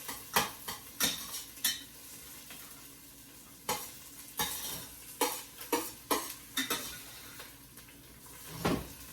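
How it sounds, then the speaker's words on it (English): Garlic pressed and scraped into a hot pan while cooking mixed greens, sizzling steadily beneath a series of sharp utensil clacks and scrapes against the pan at irregular intervals, close and fairly loud. "I want to smush my garlic into the pan"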